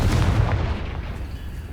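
A Confringo blasting spell cast in Hogwarts Legacy, heard as a loud, low, rumbling burst that sustains and slowly fades.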